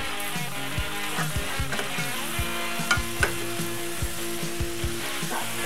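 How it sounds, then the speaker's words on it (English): A flour and sausage roux fries steadily in a pan at about medium heat, a loud, dense, continuous sizzle with frequent scraping stirs throughout, close to the ear and no talk. "I'm just going to incorporate that with everything in the pan, let it start making a little bit of a roux."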